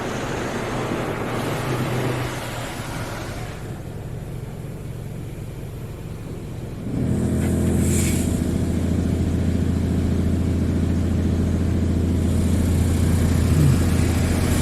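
A Washworld Razor Double Barrel automatic car wash spraying sealant onto a vehicle, heard from inside as a steady rushing spray and machine hum that grows louder and fuller partway through, with no talking.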